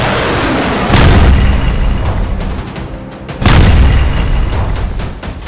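Two heavy explosions from an IDF strike on an Iranian missile factory in Syria, each a sudden loud boom at about one second and three and a half seconds, followed by a long rumbling roar and debris.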